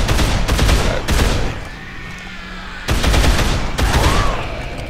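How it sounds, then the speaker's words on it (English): Loud bursts of gunfire in the zombie video game Dead Island, several heavy volleys of rapid shots separated by a quieter gap, close and dominant. "Use this gun, I'm gonna shoot some people in the face"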